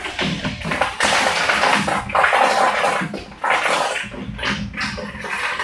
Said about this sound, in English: we're just filling up a water container at the moment